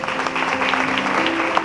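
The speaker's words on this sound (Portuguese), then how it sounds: "Você pode dar um aplauso ao Senhor?" Church congregation at a Sunday celebration service applauding, a dense, steady wash of many hands clapping close by for under two seconds.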